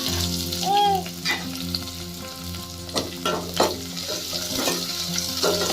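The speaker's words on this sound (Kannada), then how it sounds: "ಮೀಡಿಯಮ್ ಎರಡು ಈರುಳ್ಳಿ ಹಾಕ್ತಾ ಇದ್ದೀನಿ" Chopped onions fry in hot oil for a lentil curry, giving a continuous loud sizzle with repeated scraping stir strokes close by and no talking.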